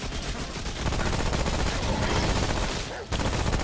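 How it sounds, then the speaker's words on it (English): Rapid, continuous gunfire from a shooter game in Remnant: From the Ashes, loud and dense throughout with a brief break near the end before the shots resume. "You shot him."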